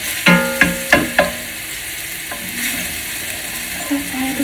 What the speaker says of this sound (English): And we saute that garlic.